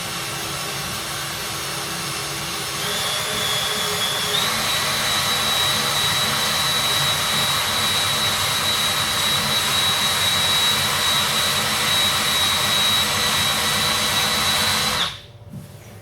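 An eraser wheel spinning on a power drill strips adhesive residue from a 1997 Chevy truck, a steady high-pitched whine with grinding friction held close and loud for about twelve seconds before cutting off abruptly.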